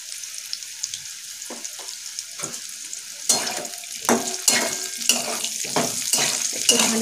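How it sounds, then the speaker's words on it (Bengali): Bitter gourd strips frying in oil with turmeric powder, a continuous sizzling hiss broken by repeated scraping stirs that grow louder and more frequent in the second half, close to the pan. "একটু ভালো করে ভাজা হবে।"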